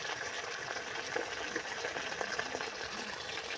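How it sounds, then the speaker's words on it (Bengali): Ginger paste with turmeric and chili powder being stirred and mixed in a pan, a continuous soft sizzle with faint scraping strokes, no voices. "এবার এটাকে আমি ভালো করে ফেটে নিচ্ছি"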